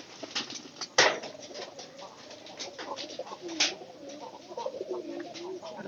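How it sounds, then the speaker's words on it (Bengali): Pigeons returning to their loft coo softly in low repeated phrases, with a couple of sharp knocks or wing flaps nearby and faint background noise. "এই যে কবুতর সবগুলা আয়া পড়তেছে"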